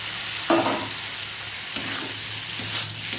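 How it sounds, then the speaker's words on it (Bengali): Fried okra goes into sizzling masala in a pan, a loud hiss when it lands, then steady frying with a few scraping stirs. "মশলাটা কষা হয়ে গেছে, ভেজে রাখা ঢ্যাঁড়সটা ঢেলে দেবো।"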